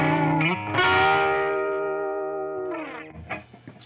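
An electric guitar played through a Metropoulos 12,000 Series amp with the bright cap disconnected: a struck chord that rings out with effects and slight distortion, sustaining for about two seconds before softer notes follow, with no talking.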